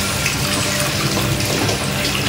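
Water pours steadily into a cooking pot with sautéed ingredients, a continuous loud rushing splash with no pauses.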